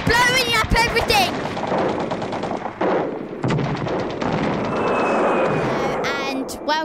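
A UFO blows up buildings in a string of loud booming explosions with crackling, rumbling debris that rise and fall over several seconds, close and harsh.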